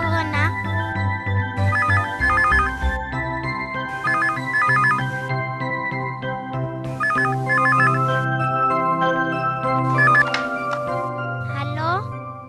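A telephone rings repeatedly in regular electronic trill bursts, moderately loud over a bed of background music, with no one speaking.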